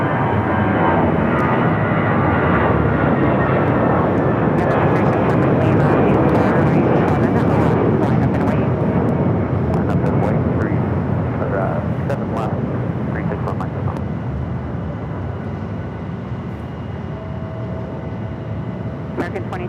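An airliner takes off from runway 7 left at Phoenix Sky Harbor, its engines making a broad, steady roar that slowly fades as it climbs away, with radio talk over it.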